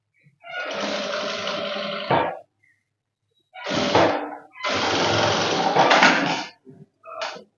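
A sewing machine stitches fabric for straight-cut pants in several loud, close bursts of rapid whirring, separated by short pauses, with a brief final spurt at the end.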